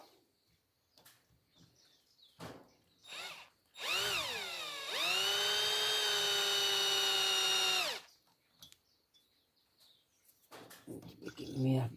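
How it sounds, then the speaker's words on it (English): A power drill with a thin bit whines up, bites into a Peugeot bell housing for a few seconds at a steady high pitch, then stops, with brief clicks and quiet voices around it. "Starting off with a thin drill."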